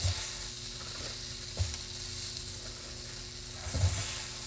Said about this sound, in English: I love that sizzling sound